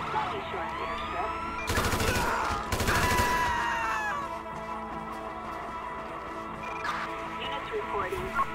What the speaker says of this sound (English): Shots fired at an officer.